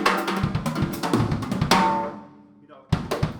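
A drum kit kick played with a flick technique drives a quick, busy pattern of thumps and hits, near and fairly loud, decaying into a short pause before the beat resumes.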